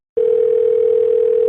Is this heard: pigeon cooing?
no